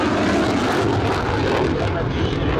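Loud, steady engine roar from a Saab Viggen fighter jet of the Swedish Air Force historic flight, filling the whole stretch at close range without a break.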